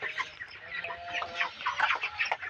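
Chickens on a poultry farm cluck in a busy, overlapping chorus on a winter morning, steady and close with no voices over them.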